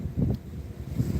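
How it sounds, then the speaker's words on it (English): Strong outdoor wind buffets the microphone in low, rumbling gusts, swelling twice across a short stretch with no one talking. "It is super windy right now."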